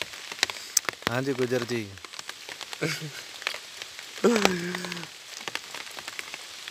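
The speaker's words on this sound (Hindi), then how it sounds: "बारिश शुरू हो गई है" Rain pours steadily outside a makeshift shelter on a roadside journey from Bosnia toward Italy, a continuous hiss of drops on surfaces running beneath several bursts of nearby speech.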